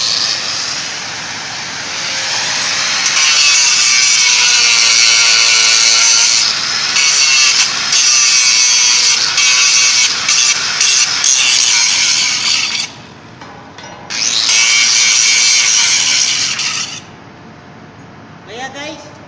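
Angle grinder cutting into a galvanized steel bolt, a loud, steady high-pitched whine with harsh grinding noise that drops out briefly near the end before resuming, with someone talking over it.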